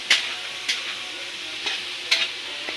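Ingredients sautéing in a pan over a charcoal fire while preparing a birthday feast, a steady soft sizzle broken by a few sharp scraping stirs spaced through the stretch, with no talk.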